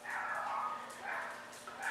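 Dogs in a kitchen let out a few sharp barks and yips in quick bursts, close and fairly loud, with no talking over them.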